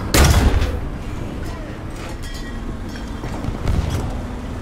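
Panzer IV Ausf. J medium tank cannon fire in War Thunder, a loud sharp blast at the start followed by a second thump later, with rumbling battle noise and talking throughout.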